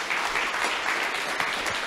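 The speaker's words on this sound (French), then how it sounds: "On va applaudir pour les 10 entrepreneurs de l'année" Sustained applause from a gala audience at an awards evening honouring entrepreneurs in Montreal, a dense, even wash of clapping that fills the whole moment without pause.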